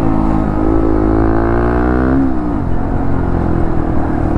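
A Bajaj Pulsar NS125 motorcycle fitted with an aftermarket Akrapovic exhaust revs up and then settles at a steady idle. The note holds a continuous, moderately loud hum with no talking over it.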